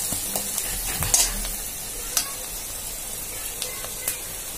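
Mustard seeds and onion frying in oil as the base for a fish curry, with a steady close sizzle broken by a few sharp spatula stirs and crackles.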